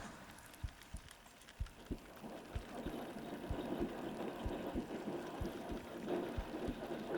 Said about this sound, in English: It's a trophy heartbeat, so I know it's a trophy.